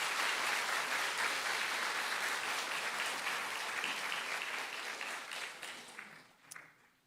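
A church congregation at an Easter Sunday service applauds the choir with steady, dense clapping that fills the room for several seconds, then thins out and fades near the end.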